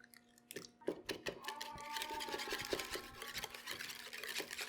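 A whisk scrapes and clinks steadily in a bowl, blending an egg into vanilla and stevia for a low-carb blackberry cobbler batter, with quick rhythmic strokes close by.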